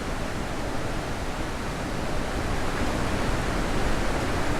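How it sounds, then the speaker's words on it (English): A steady, loud roar of rushing water from a waterfall in the video game The Witness fills the whole clip with dense, unbroken hiss and no pauses. "On top of a waterfall."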